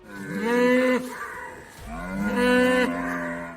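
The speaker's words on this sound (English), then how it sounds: "Where are these curious cows looking at?" Two long, loud cow moos sound close by on a farm, each drawn-out low bellow rising and fading, separated by a short pause.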